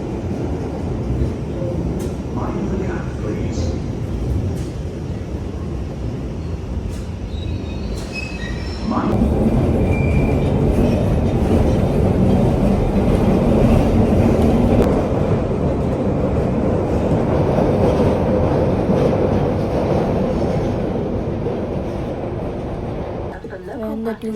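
A train rolling into a station, rumbling louder and closer about midway with wheels screeching and squealing, amid loud, steady rail noise; a voice is heard over it.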